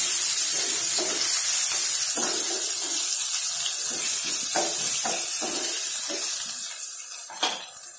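Grated ginger sizzles and hisses in a hot pan, a steady frying crackle with scattered spatters and stirring scrapes, close and fairly loud, with no voices.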